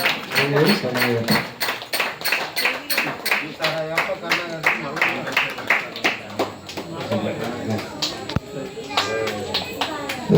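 Many people clap in a steady, rhythmic beat during a blessing at a Sri Ayyappa temple, where a Makara Jyothi viewing, flower abhishekam and palanquin service take place. The loud clapping runs under chanting and talk.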